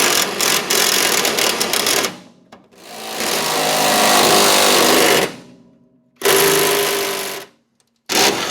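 An impact wrench fitted with impact sockets hammers on rusted bolts of a 1949 Willys truck, loud and close, in three long bursts separated by short pauses.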